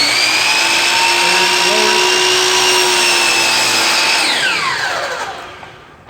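A mitre saw spins up with a loud, steady high-pitched whine as its blade cuts wood, holding an even tone for several seconds before the pitch sweeps downward as the motor winds down.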